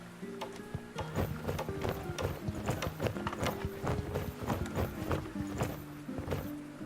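Horses and ponies in stables, hooves clip-clopping in a steady irregular rhythm of close, distinct knocks, with no voices.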